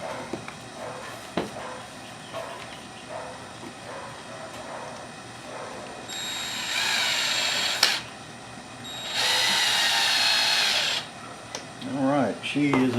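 A power drill drives screws to fit an ATI Strikeforce stock onto a Ruger 10/22 rifle, running in two sustained whirring bursts with ratcheting clicks and handling noises between them, close by.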